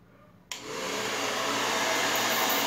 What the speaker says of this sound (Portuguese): Vou dar uma adiantada com o secador, tá? Sempre uso o secador no modo frio